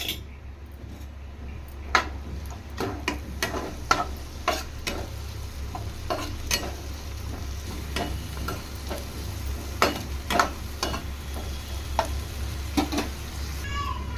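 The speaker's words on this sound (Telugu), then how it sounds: "2 టమాటాలు ఈ విధంగా సన్నగా కట్ చేసుకొని టమాటాలు కూడా మగ్గించుకుందాం." Thinly sliced tomatoes fry in oil in a kadai for an Andhra-style gongura pachadi, a soft steady sizzle broken by frequent sharp scrapes and taps of a spoon stirring against the pan.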